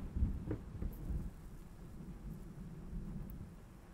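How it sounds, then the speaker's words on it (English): Storm ambience from the horror game Layers of Fear: low rolling thunder rumbles over steady rain, loud at the start and then settling into a continuous dull roar with no voices. "At least the storm's dying down."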